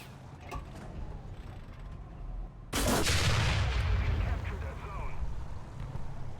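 A Panther tank's cannon fires in a war video game, a sudden loud blast partway through that rolls into a long rumbling decay, preceded by mechanical engine noise and faint game sounds.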